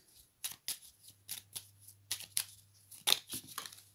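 Cards are drawn one by one from a deck for a reading, a quick series of soft, close papery slides and snaps in an irregular rhythm, with no talk.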